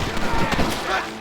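Gunfire in the video game Red Dead Redemption: a dense, noisy flurry of shots and booms packed into about a second, loud and close, with voices mixed in.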